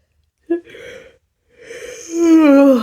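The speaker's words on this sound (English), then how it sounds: "Before I yawn again" A person yawns with a breathy intake, then a long drawn-out vocal yawn rising and falling in pitch, close to the microphone.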